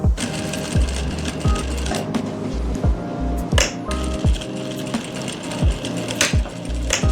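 A sewing machine stitches folded fabric over an elastic waistband on palazzo pants, running in steady rapid bursts broken by regular clicks and thumps as the fabric is guided, close and alone with no talking.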